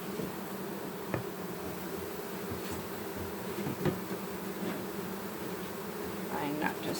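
Honeybees from a newly installed package hum in a steady, dense drone at close range as frames are slowly set back into the hive, with brief soft knocks and handling sounds.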